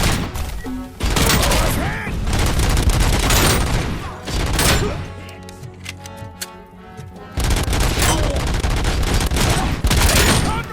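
Rapid gunfire bursts in the video game Robocop: Rogue City, loud and sustained across several volleys with a brief lull in the middle, mixed with game effects and a voice talking.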